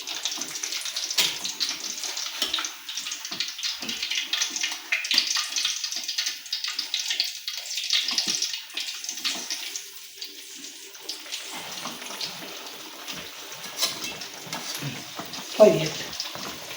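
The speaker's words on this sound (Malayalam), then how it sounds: "നന്നായി പൊരിയിട്ട് നമ്മൾ പഴം നിറച്ചത് പൊരിഞ്ഞ് വന്നിട്ടുണ്ട്." Stuffed banana frying in hot oil, a steady broadband sizzle with bubbling under it, moderately loud and close, with a brief clatter near the end.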